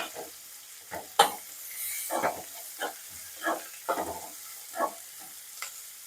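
Onion and garlic fry in a pan for tomato chutney as a spoon stirs them, giving irregular scraping bursts over a steady soft sizzle, close and moderately loud, with no voices.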